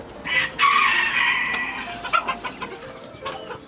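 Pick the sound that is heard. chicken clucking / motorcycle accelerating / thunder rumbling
chicken clucking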